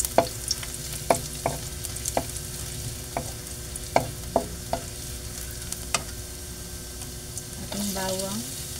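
Ginger sautés in hot oil in a wok-style pan for sweet and sour lapu-lapu, with a continuous soft sizzle and regular sharp spatula taps and scrapes. A brief voice is heard near the end.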